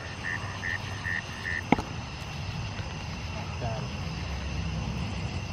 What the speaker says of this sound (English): They're like tiny frogs.